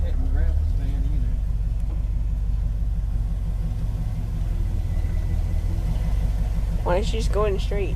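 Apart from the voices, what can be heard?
1968 Ford F-250 truck engine running while driving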